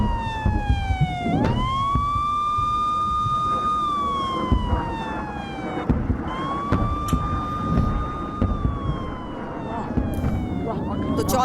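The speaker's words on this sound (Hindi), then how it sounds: "नॉर्थ इजराइल में गूंजे एयर रेड अलर्ट सायरन की आवाज।" An air raid siren wails in long rising and falling sweeps, sounding from a distance over a steady background rumble with scattered clicks, in northern Israel.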